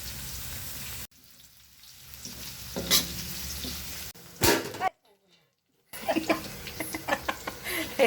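Garlic sautéing in a pan for Filipino menudo, a close sizzle and crackle broken by clatters, a brief silent gap and stirring, with a voice speaking over it.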